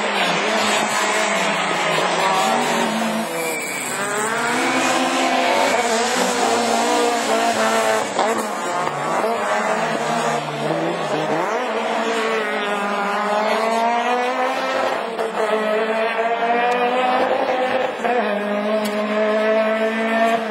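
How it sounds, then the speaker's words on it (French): A Peugeot 207 rallycross car in a Division 4 French championship race screams past at high revs, its engine loud and continuous with rising and falling pitch as it shifts and accelerates. "Et à part la 207 derrière de Francis Marie, la belle 207 du 6 MTA."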